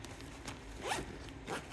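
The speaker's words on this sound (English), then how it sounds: "And then the back, it has a zipper." A zipper on the back of a planner pouch is pulled open in a few quick close rasping strokes, with faint handling sounds between pulls.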